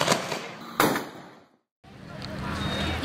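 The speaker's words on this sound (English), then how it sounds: "there was just this huge explosion and then the lights just are off" Sudden loud explosion at a Thai street food market in Surat Thani, a sharp bang rising out of crowd chatter, then near silence before background murmur returns.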